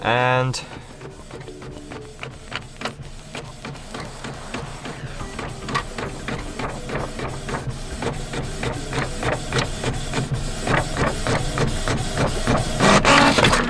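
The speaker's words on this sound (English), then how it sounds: "my printer is printing right now." A Canon PIXMA MG5700 series inkjet printer runs through a page, with a steady stream of rapid mechanical clicks and shuttling whirs that grows slightly louder toward the end.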